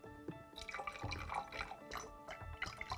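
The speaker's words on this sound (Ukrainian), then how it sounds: "Я заливаю рідину." Liquid being poured into a set of communicating vessels of different shapes during a physics lesson, a steady trickling and dripping splash close by for about three seconds.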